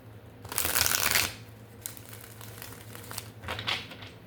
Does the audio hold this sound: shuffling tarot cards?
yes